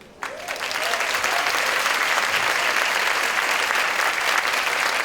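Conference audience applauding three speakers at an HR congress in Rio, a loud dense sustained round of clapping that starts abruptly and holds steady throughout.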